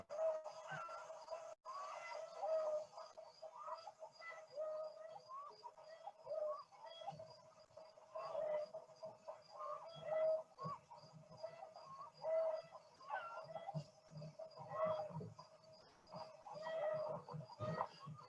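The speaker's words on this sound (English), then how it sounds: "that is the sound that chickens produce when they can see a great horned owl anywhere, usually above, when it comes into view" Backyard chickens give alarm calls after spotting a great horned owl overhead, a series of repeated, fairly faint wavering notes recurring every couple of seconds over quiet outdoor background.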